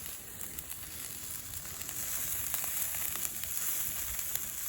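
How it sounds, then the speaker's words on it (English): Food sizzles over a campsite fire, a steady faint hiss with small crackles and no voices. "They're sizzling."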